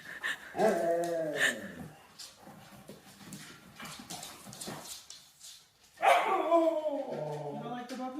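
Puppies bark and growl close by in two yelping bursts with a quieter whimpering stretch between, while a person talks over them.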